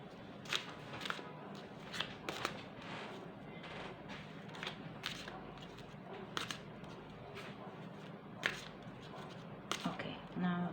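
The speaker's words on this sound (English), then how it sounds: "I have a feeling that I want to shuffle more." Tarot cards being shuffled by hand during a reading: repeated crisp riffling and snapping bursts at irregular intervals over a low background hum, fairly close and quiet.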